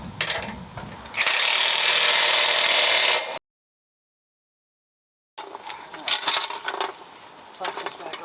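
Ratchet cranking on the lower control arm bolts of a 5th generation Toyota 4Runner: a burst of dense, loud mechanical clicking, then a silent gap, then more uneven ratcheting and clatter close by.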